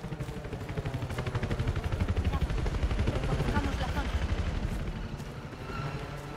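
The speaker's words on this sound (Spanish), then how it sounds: "Llega un helicóptero." A helicopter arrives in Battlefield 4 amid gunfire near a dam, a steady loud rotor throb under a dense crackle of rapid shots that swells in the middle and eases toward the end.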